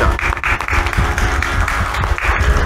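A concert audience applauds loudly as band members are introduced during a Kazi Nazrul Islam song program, with dense continuous clapping close by and brief bits of crowd noise.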